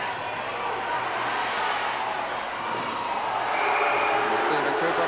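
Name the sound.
home crowd at Durham Wasps ice hockey game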